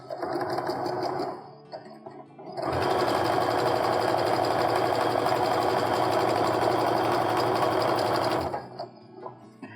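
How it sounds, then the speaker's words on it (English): A sewing machine stitches a quarter-inch quilting seam, with a short run of steady whirring, a brief pause, then a long, continuous loud buzz of rapid needle strokes that stops near the end. "So I'm setting my seam up to sew a 1/4 inch stitch, just like you do for almost all quilting."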